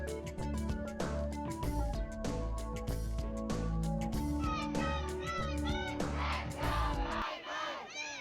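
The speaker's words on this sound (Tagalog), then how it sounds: "Grabe yung sigawan." A crowd shouting and cheering loudly throughout, dense and continuous over music-like tones, with a brief drop near the end before the roar resumes.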